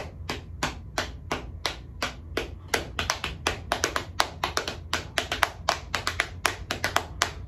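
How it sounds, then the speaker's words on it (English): Dry, sharp drum taps in a busy, uneven rhythm, triplets layered against steady quarter notes, close and moderately loud, no voices. "You'll hear like triplets over straight quarter notes"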